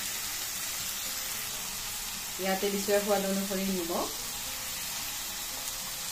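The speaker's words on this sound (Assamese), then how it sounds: "হাই ফ্লেমতে বেঙেনা আৰু আলুখিনি ভাজিম" Eggplant and potatoes fry on a high gas flame, a loud steady sizzle throughout, briefly joined by a rattling stir partway through while someone speaks.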